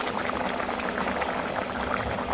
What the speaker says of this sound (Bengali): ঝোলের মধ্যে কোপ্তাগুলো দেওয়ার পরে 3 মিনিটের মতো খুব ভালো করে ফুটিয়ে নিতে হবে।